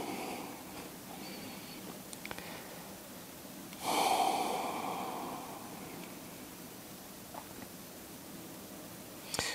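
During a slow yoga practice, a deep, audible breath rushes in and out at mid-clip, a soft hissing exhale standing out over quiet room noise with light rustling.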